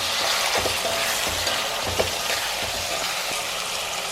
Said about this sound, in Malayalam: നല്ലപോലെ ഇളക്കാം.